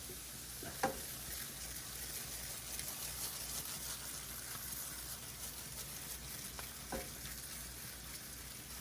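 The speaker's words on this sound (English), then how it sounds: "It's got a nice little sizzle dancing up there." Steady frying sizzle of rice in hot olive oil, a constant crackling hiss with a couple of brief stirring clinks, close up and no talking.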